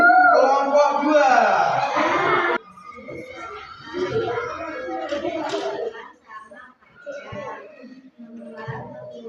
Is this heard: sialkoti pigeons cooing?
no